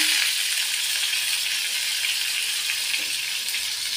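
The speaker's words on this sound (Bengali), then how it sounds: "ফ্রাই প্যানে মাছ দিয়ে দিয়েছি।" Fish frying in oil in a frying pan gives a continuous, fairly loud sizzle and crackle that holds steady from start to finish, with no talking.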